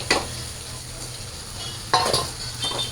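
Flat beans and potatoes hit a hot pan and sizzle steadily. Two sharp bursts of stirring and clinking rise over a constant frying hiss.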